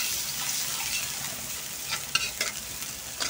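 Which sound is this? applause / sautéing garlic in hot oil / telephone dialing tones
sautéing garlic in hot oil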